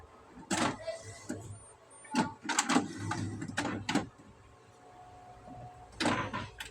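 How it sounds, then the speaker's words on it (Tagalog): The print head of an HP Ink Tank 315 printer, just serviced after an error, moves back and forth in several short whirring bursts separated by pauses, close and fairly loud. "Napapakinggan niyo yung movement ng head."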